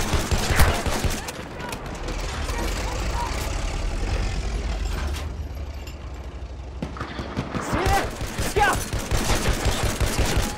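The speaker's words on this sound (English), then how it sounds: "Machine gun right there! Enemy machine gun sighted!" Rapid gunfire in Battlefield 1 rattles in dense volleys among battle noise and an engine rumble, with voices shouting over the fighting.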